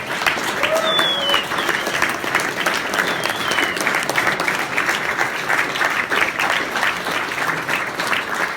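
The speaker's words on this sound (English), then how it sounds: "clap your hands." An audience at an arcade game creators' reunion with Eugene Jarvis and Larry DeMar stands and claps together, a dense, sustained round of applause with a few faint voices mixed in.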